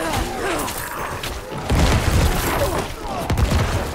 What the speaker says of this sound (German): Ich lasse den explodieren